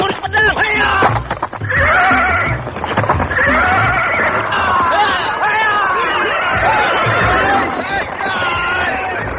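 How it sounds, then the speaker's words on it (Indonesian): A horse whinnies repeatedly while galloping toward the scene, hooves clattering beneath a steady layer of crowd chatter and background voices in a dramatic period story. "Seorang pemuda menunggang kuda dengan kecepatan tinggi menuju ke sini."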